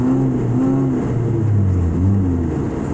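A car passes close by on a road at night, its engine and tyre noise swelling and fading as a steady, fairly loud vehicle rumble with rising and falling pitch.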